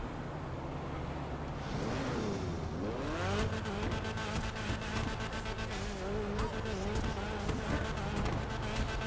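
A video game sports car engine, an Annis ZR350 in GTA 5 Online, idles, then revs up with rising and falling pitch sweeps, growling loudly and continuously to the end.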